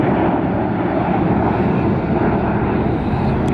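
An American Airlines airliner in retro livery roars past at an airport, a loud, steady broadband engine rush filling the short stretch.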